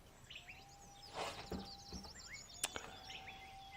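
Small birds chirp and tweet in quick, thin calls, including a rapid run of repeated notes, faint and somewhat distant over a low background.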